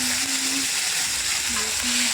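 Chopped tomatoes hit hot oil with cumin seeds in a pan, giving a steady, loud, close sizzle and fry that runs unbroken throughout, with a faint stirring tone in the background and no talking.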